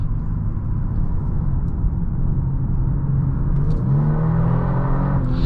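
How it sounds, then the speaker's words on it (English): A 2024 Genesis G70 3.3T Sport Prestige twin-turbo sedan accelerating, heard from inside as a loud, steady engine rumble and whir that rises in pitch near the end as the revs climb. "power does come on pretty quickly from these twin turbos"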